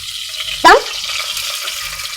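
Asafoetida dropped into hot oil for tempering gives one sharp sizzling burst that quickly settles into a low, steady frying hiss.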